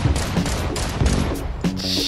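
Bursts of gunfire in the VR shooter Crossfire Sierra Squad: several close, punchy shots come in quick irregular clusters over two seconds, and a brief metallic ring follows near the end, with no speech.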